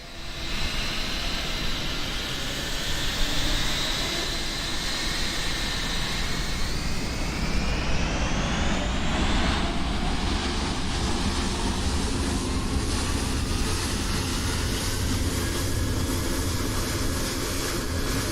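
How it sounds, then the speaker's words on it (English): Airliner engines at a busy airport in the Microsoft Flight Simulator game, a loud continuous jet roar and whine that shifts in pitch as it spools, with no talk over it. "That's a lot of engine."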